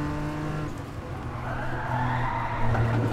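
A TVR in a racing video game slides with a sustained tire squeal over a steady engine drone, the car struggling for grip; continuous and fairly loud for a few seconds.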